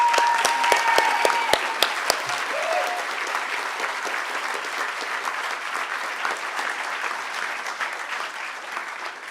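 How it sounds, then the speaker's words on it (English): Large audience applauding at the closing ceremony of a hacker conference, dense sustained clapping with a few loud close claps and a brief whistle at the start, then an even roar that slowly eases. "I would say an extra hand of applause for the people who did this project"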